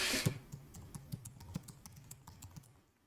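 Fingers type on a computer keyboard, about a dozen crisp keystrokes tapping close by at an uneven pace over a few seconds, with no voice.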